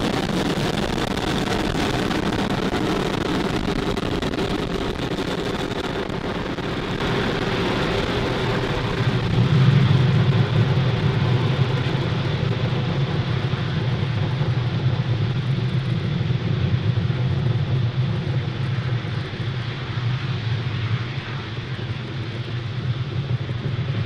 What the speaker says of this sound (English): Falcon 9 has successfully lifted off from pad